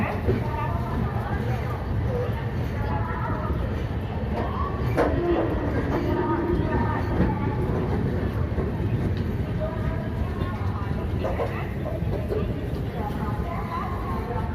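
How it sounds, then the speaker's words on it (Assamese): A train pulls out of Visakhapatnam station with a steady, dense rumble of wheels and carriage noise throughout, faint clacks and squeals rising now and then. "আমাৰ ট্ৰেইন এৰিছে বিশাখাপট্টনমৰ পৰা, এতিয়া ৰাওনা হৈছে।"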